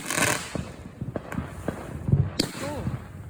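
Fireworks go off in a quick scatter of sharp pops and bangs, several close cracks spaced irregularly, while people talk and react in the background.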